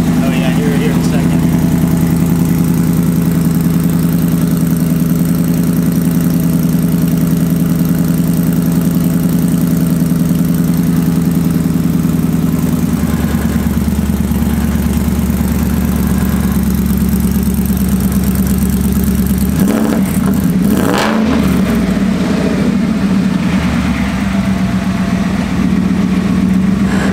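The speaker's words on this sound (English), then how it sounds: "Should idle down just a little" A Ford F100 truck with a Coyote V8 engine swap and full stainless exhaust idles close by, a loud steady rumble that eases slightly toward the end, with people talking over it.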